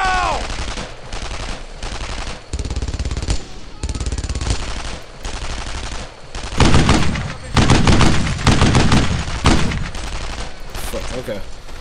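Dense, loud video-game gunfire from Brothers in Arms: Earned in Blood, with sustained machine-gun bursts and rifle shots on a battlefield running without a break, louder in the second half, with a voice briefly heard over it.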